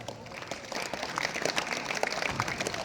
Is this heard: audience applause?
yes